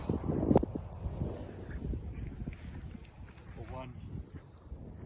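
Strong wind buffets the microphone on a golf course in terrible weather, a low rumbling gusty roar throughout while a person speaks briefly over it.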